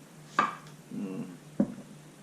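Knife cutting through freshly picked, washed zucchini: a few distinct chops spaced apart, close and fairly quiet, with no talking.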